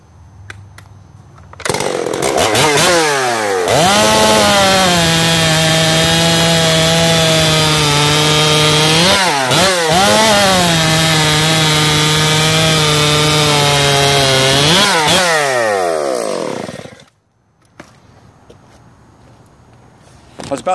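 A ported STIHL MS 088 Magnum chainsaw with JR chain roars loud and close as it revs, bogs into wood through two long cuts, briefly dips between them, then drops to a rough idle.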